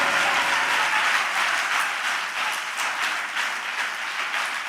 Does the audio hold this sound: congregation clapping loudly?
yes